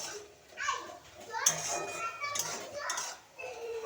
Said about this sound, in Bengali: যারা হইচই করছে তাদের একটু দেখে আসা যাক